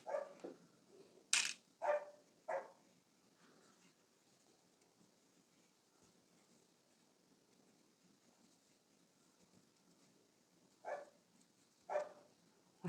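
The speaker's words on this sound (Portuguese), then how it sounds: "toda vez que passa um cachorro na rua, ela fica latindo assim" A female dog at home barks in short bursts at a dog passing in the street, a few sharp barks at the start, a long quiet gap, then two more barks near the end, fairly distant.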